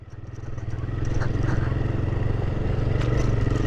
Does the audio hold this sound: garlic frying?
no